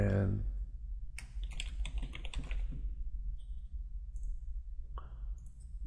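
A new user name is typed on a computer keyboard in quick bursts of close key clicks, followed by a few isolated clicks. There is a brief sound at the start.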